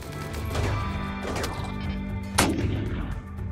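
Repeated gunfire in a Rimworld combat battle, several loud sharp cracks with a strong burst near the middle, over a steady dense background rumble.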